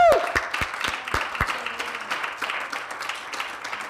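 A church congregation applauds during a French-language sermon, with a few sharp, close hand claps at first and then a looser patter of clapping across the room.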